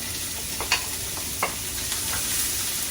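Chopped onion frying in a pan as moussaka meat sauce begins, a steady close sizzle with a few soft scrapes of stirring, and no talking.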